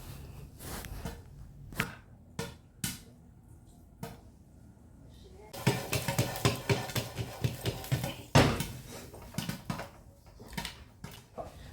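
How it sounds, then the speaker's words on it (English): Popcorn and Skittles shaken together in a cooking pot, giving a loud, dense burst of rattling and clattering in the second half after a few sparse taps and knocks. "I proceeded to shake the pot so it can mix effectively"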